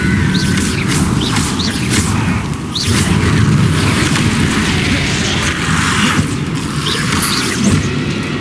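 Spells such as Expelliarmus and Incendio cast repeatedly in the video game Hogwarts Legacy land as loud, continuous booming blasts and crackling bursts, close up and one after another with no break between them.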